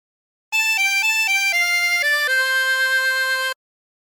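Harmonica playing the melody of For He's a Jolly Good Fellow, a short phrase of clean, sustained reedy notes stepping between pitches and ending on a long held tone, solo and close with silence before and after.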